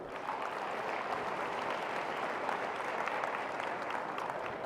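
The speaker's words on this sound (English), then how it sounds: "Let's also give them a round of applause as well." A room full of people gives a steady round of applause for the parents at a high school decision day event, a dense, even clapping that holds for a few seconds at moderate distance.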